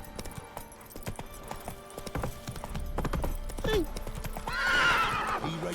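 Horse hooves clip-clop at a gallop in The Witcher 3 video game, a rapid steady rhythm close by, ending in a loud neigh and whinny.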